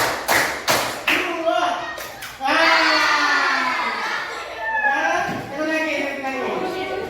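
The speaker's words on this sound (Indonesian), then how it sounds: "Tepuk satu, tepuk dua, tepuk tiga." A short run of sharp claps from children playing a counting clap game in a classroom, loud and close, then giving way to a chattering mix of children's voices and talk.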